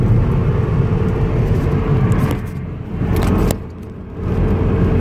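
A car driving on a snowy road on a winter morning, a steady loud interior rumble and road whir that dips briefly twice, with no talking.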